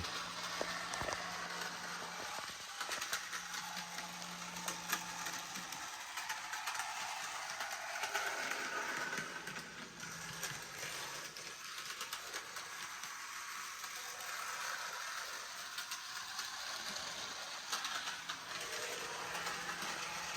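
A Kato N scale Christmas Pocket Line model train runs continuously on its track, giving a steady whirring rattle with a hissy edge and no voices.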